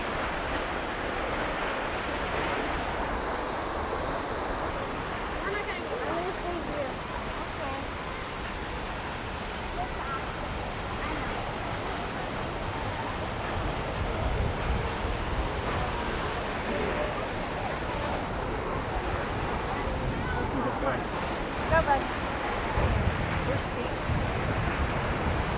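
An Oregon waterfall crashes down in a steady, continuous roar of rushing water, mixed with wind buffeting the microphone and no clear breaks.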